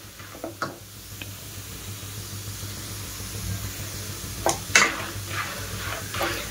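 Roasted gram, peanuts and grated coconut frying in a pan make a steady low sizzle, broken by scraping strokes and sharp clinks of a spoon stirring against the pan, loudest toward the end.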